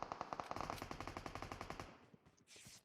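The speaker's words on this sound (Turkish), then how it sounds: "Arkadan biri sıktı bak." Rapid automatic gunfire from the video game PUBG Mobile, a burst of evenly spaced shots that fades after about two seconds, followed by a short soft rustle.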